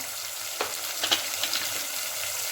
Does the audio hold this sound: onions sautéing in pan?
yes